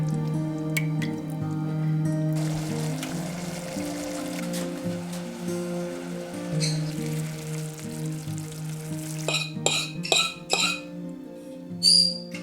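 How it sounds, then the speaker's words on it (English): Thin spruce tip syrup is poured back into a pot, giving soft dripping, trickling and occasional glassy clinks that grow busier and louder toward the end, with no talk. "I'm going to pour this back into my pot"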